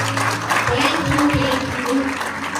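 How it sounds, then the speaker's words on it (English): A church congregation claps for God during a worship service, steady crowd applause filling the room with voices mixed in beneath it. "May we clap for God."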